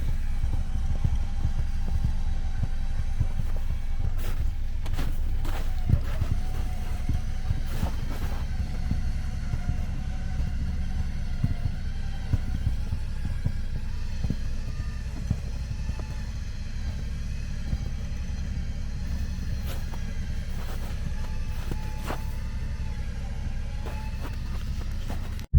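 An off-road vehicle pulls free of deep mud on a trail, its engine a steady low droning rumble held throughout, with occasional faint knocks and thumps and no talking.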